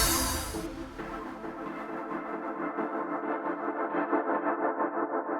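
A house track swept through a heavy effect transition, a bright noisy wash fading into a distorted, echoing, chorused groove with a steady pulsing beat.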